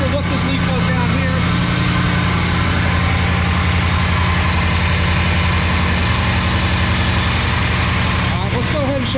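1980 Mercedes-Benz 450SLC with its V8 running at a steady idle, a low, even rumble heard up close throughout, with a person talking over it.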